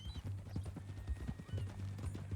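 Hooves of a horse in Red Dead Redemption 2 clip-clop at a walk in an uneven, steady plodding rhythm, soft and close, with a brief snort.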